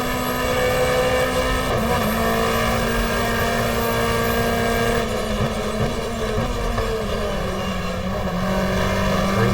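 Race cars in the 1994 GTR2 Australian Manufacturers Championship at Lakeside circuit, with the Momo BMW close by: a steady, loud engine drone holding constant throughout, dense and unbroken, with no talking over it.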